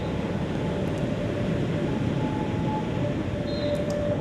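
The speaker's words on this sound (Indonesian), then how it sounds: "Sebentar, ada kereta lewat." A train rumbles past, a steady broadband roar close by that holds even and loud from start to finish, with faint squeals near the end and no voices.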